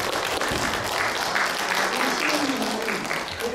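An audience at an amateur vocal club's spring concert claps steadily to welcome a guest being introduced, giving dense, sustained applause throughout.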